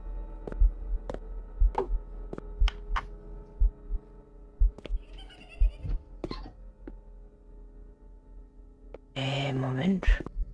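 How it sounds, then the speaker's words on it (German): A steady, thudding heartbeat in the video game I Won't Forget Hue, low pulses recurring roughly every second under quiet ambience, with a short burst of other game noise near the end. "Hör auf mit dem Herzklopfen, finde ich nicht schön."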